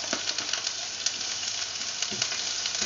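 Ginger hitting hot oil in a pan for Filipino mussels in coconut milk gives a steady, close sizzle with bright crackling pops throughout, no voices over it.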